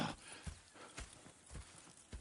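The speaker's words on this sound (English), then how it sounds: "Go check the horses are ready." Horse hooves clip-clopping in the video game Red Dead Redemption 2, a steady rhythmic walking beat of several hoof strikes, fairly faint and alone.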